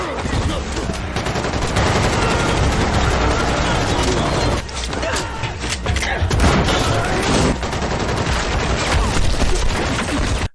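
A film shootout plays out in dense, sustained gunfire, with rapid bursts and loud overlapping shots that continue almost without pause.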